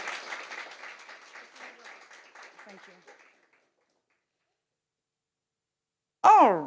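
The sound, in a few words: audience round of applause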